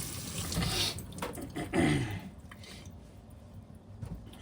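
A faucet runs water over a sharpening stone, with splashy rinsing that is strongest early on and then tapers to a softer trickle, close and fairly quiet.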